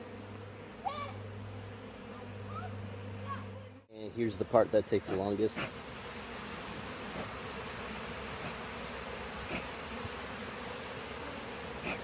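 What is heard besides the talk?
honey bees buzzing while being moved into a box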